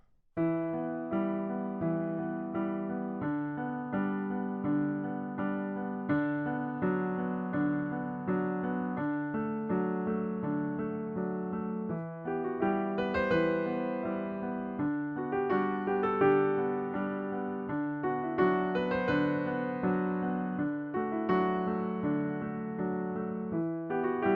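A piano plays a steady, rolling repeated figure with a bass line under it that continues evenly for over twenty seconds, alone with no voices.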